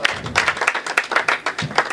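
At a Hindi comic poetry gathering, the audience claps in a fast, rhythmic beat, a close and loud run of crisp, regularly spaced claps lasting about two seconds.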